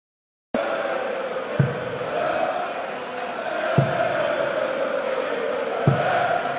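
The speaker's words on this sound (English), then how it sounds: "the crowd certainly chanting for Adrian Lewis" A darts crowd at the PDC German Darts Championship 2014 chants rhythmically for Adrian Lewis, a broad sustained roar of voices punctuated by three sharp thumps, loud and filling the hall.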